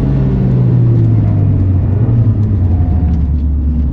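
A Toyota GR Yaris slides around the Mandalika circuit, its engine giving a steady, droning rumble with a slight rise and fall. No one talks.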